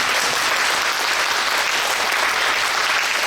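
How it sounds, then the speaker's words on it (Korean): A church congregation at an installation worship service gives sustained, dense applause for its leaders, a steady wash of clapping with no voices over it. "세계평화복음화 중앙협의회에서 함께해 주신 그런 지도부들에게도 박수 한번 보내주시면 감사하겠습니다"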